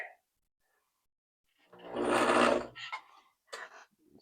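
A 1974 Kenmore sewing machine stitching a straight stitch in one short burst of about a second of whirring motor and needle, followed by a few quieter mechanical clicks and stops.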